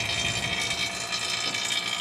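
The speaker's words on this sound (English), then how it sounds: "got a vacuum on the system" A vacuum pump runs steadily while evacuating a car's A/C system, giving a continuous, fairly loud mechanical whir with a faint rhythmic pulse throughout and no talk.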